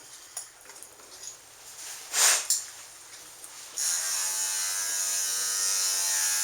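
Electric dog grooming clippers fitted with a purple comb attachment buzz steadily and close, in short bursts early on, then settling into a continuous drone for the last few seconds.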